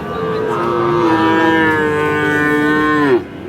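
A single long, loud moo from a young Sahiwal bull calf at a livestock market, sustained for about three seconds before dropping off sharply, close by.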